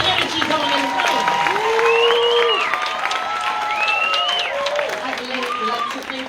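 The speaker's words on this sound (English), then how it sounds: "let's just applaud them one time" A room full of guests at a women's awards gala claps and cheers to build energy, the applause steady beneath raised voices and whoops that rise and fall over it.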